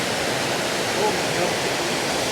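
McCloud Falls waterfall crashing in a steady, broadband roar of falling water, close and loud, constant throughout with no break.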